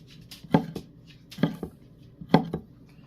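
A knife chops through salami into chunks on a cutting board, giving sharp, close thuds in about three paired strikes spaced roughly a second apart, with a quiet room between them.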